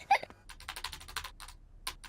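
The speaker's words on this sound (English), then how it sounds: "Peppa and George love to watch Mummy work on the computer" Cartoon computer keyboard typing as a mother pig works at her computer: a quick run of light, crisp key clicks in uneven bursts with short pauses, close and fairly quiet, with no talk over it.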